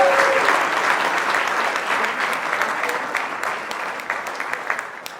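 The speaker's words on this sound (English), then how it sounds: "So just a big round of applause just for you guys." A crowd at a fan party for a 70th birthday celebration in Belfast applauds, a full bed of clapping that starts strong and slowly thins toward the end, with a few scattered louder claps.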